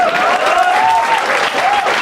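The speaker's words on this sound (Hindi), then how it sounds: "ताली बजाओ इसके लिए।" A comedy show crowd claps steadily and loudly throughout, a dense wash of applause with a faint whistle or voice riding over it.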